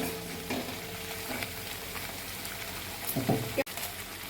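A spice masala for a tofu dish sautés in a pan, a soft low sizzle with a few stirring scrapes, quiet and close, with no talk over it.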